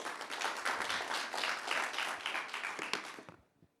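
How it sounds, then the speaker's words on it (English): Dense audience applause for Matthew Bach, Regional Director of ICLEI Europe, at a city–industry climate neutrality forum; steady and full for about three seconds before quickly tapering off to silence. "A round of applause, please."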